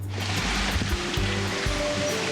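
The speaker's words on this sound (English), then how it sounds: "the boat is constantly tilted on its side and keeps hitting the waves head on" A heeled sailboat beating upwind toward Bengkulu, its hull slamming into waves head on, giving a rushing wash of water and spray with low thuds and surges, loud and close without speech.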